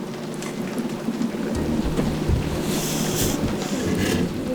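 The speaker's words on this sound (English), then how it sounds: "it's drizzling on and off" Steady rain falls during a drizzly deer hunt outdoors, a continuous close patter with a low rumble underneath and no voices.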